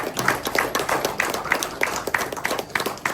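Small group clapping at a kava bar speaking event, a handful of hands giving quick, uneven claps close by, brief and lively with no voices.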